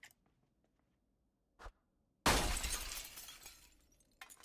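Glass window shattering in a survival video game set in Louisville, a sharp crash bursting out and trailing into scattered tinkling debris after a brief earlier knock, with no talk.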